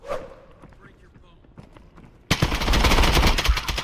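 Gunfire in the video game Exfilzone: a couple of seconds of quiet shuffling and small clicks, then a sudden loud, sustained burst of rapid automatic fire that fills the rest of the moment.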